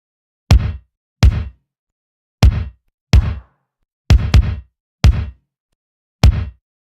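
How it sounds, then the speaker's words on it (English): Gated 1980s New Jack Swing kick drum layered from a chopped drum loop: eight punchy, abruptly cut hits in an uneven pattern, loud and dry with silence between them. "I layered in the kick drum of this drum loop"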